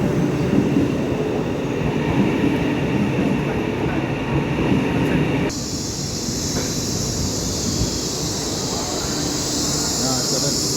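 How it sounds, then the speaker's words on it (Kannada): A bullet train in China rolls at speed, a steady loud rumble and rush of wheels and air filling the whole stretch, with a sharp shift in the hiss partway through, heard from inside the carriage. "bullet train"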